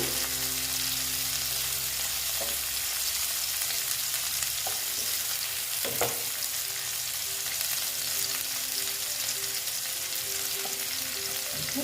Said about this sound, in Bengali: পেঁয়াজটা দিয়ে দিলাম পেঁয়াজটা একটু ভাজা ভাজা হবে